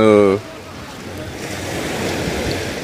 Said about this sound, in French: Donc voici sur la plage.